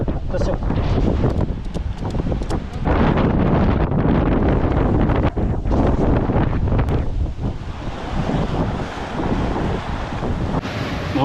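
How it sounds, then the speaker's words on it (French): Strong wind at sea roars over a sailboat in the Tuamotu, blowing around 25 knots, with constant loud gusting and buffeting across the whole stretch. "Ça souffle plus vite que prévu."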